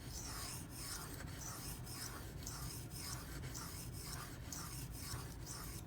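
A Benchmade 9400 Auto knife is sharpened on a stone, with rhythmic back-and-forth scraping strokes, about a dozen even passes, close and steady, with no voices.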